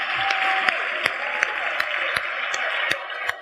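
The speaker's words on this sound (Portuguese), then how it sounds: "Dê uma salva de palmas ao nosso Deus" A church congregation claps in praise of God, a steady wash of applause with a few sharper claps standing out, under music-like tones.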